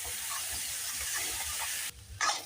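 Potatoes frying in a pan give a soft, steady sizzle and hiss at low level, briefly dropping away before a short louder burst as they are stirred.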